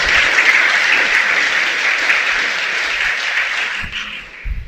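Loud, sustained applause from a congregation at a Shabbat sermon, a thick even roar of clapping that holds steady and then begins to thin out at the end.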